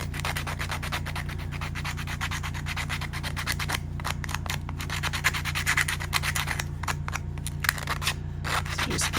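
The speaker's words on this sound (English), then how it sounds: "I'm going to take some sandpaper and I'm going to distress his hat" Sandpaper rubbed back and forth over the painted wooden hat of a primitive snowman, a steady close-up scratchy rasp that continues without pause, with no talking.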